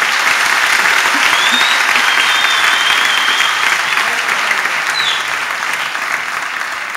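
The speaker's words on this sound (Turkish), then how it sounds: "İbrahim Büyükak ve Zeynep Koçak'a önce bir alkış" A studio audience applauds for İbrahim Büyükak and Zeynep Koçak during a Turkish comedy show, sustained thick clapping that holds strong throughout and eases slightly toward the end.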